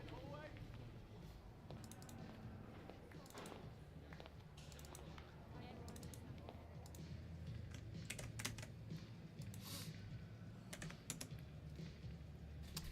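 Keys on a computer keyboard clatter in quick irregular bursts of typing, faint and steady under a low hum, during an Everton career mode gaming session.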